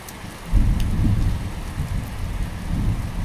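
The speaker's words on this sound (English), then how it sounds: "He actually liked the sound of the storm" Steady rain pours down in a thunderstorm while low thunder rumbles and rolls through, swelling loudest early and again near the end.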